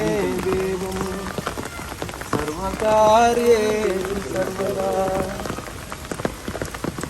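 Rain falls steadily outdoors in a flower park during a Vinayaka Chavithi festival, a constant hiss of drops on surfaces, while people chant and sing a prayer over it.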